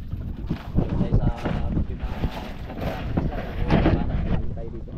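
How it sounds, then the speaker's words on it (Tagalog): Strong wind buffets the microphone at a seaside spot, a steady low roar with gusts swelling near the start and again toward the end, with some talk faintly mixed in. "Mahangin pa."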